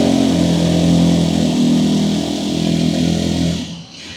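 A small motorbike engine catches after a start using choke and a little gas, then runs roughly and loudly up close with a buzzing, uneven note that briefly dips and sputters at the end.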